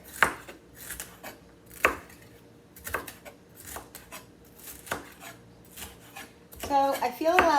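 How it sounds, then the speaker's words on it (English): Peppers sliced thin with a knife on a cutting board, a series of crisp chopping strokes in an irregular rhythm, close and fairly loud, with a burst of clattering at the end. "I'm just going to cut up some peppers."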